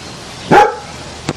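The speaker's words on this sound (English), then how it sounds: "Who's barking?" A dog in a country setting lets out one sharp, loud bark close by, followed a moment later by a brief, fainter yip, with no talking.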